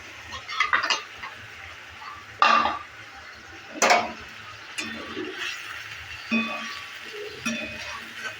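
Soybeans being stirred in a pan, with scattered clanks and scrapes of a spatula against the metal over a faint frying hiss, close and irregular with pauses between strokes.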